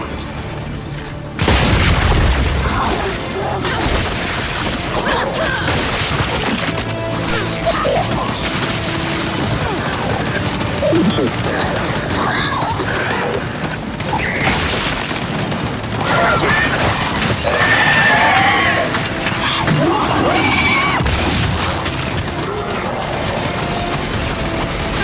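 Grenade explosion in the video game Gears 5, a heavy boom early on that sits within a continuous dense battle din of gunfire, crashes and mechanical clatter throughout.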